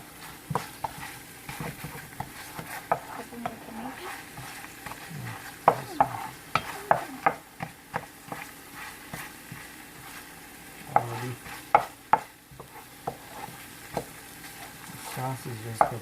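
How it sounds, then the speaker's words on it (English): Frozen paneer curry gravy frying and sizzling in a pan while being stirred, with irregular scraping and tapping from the spoon and a steady hiss, close and fairly quiet. "you're just gonna let this fry like for a minute or two"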